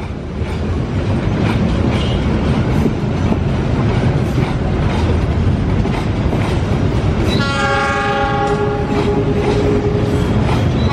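Passenger train passing through Bandung railway station in the evening, a loud steady rumble and clatter of wheels, then a long sounding of the horn near the end.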